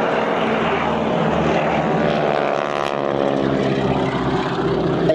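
Propeller airplanes roar steadily and loudly overhead at an airshow in Oostwold, with a continuous engine drone throughout and no voices.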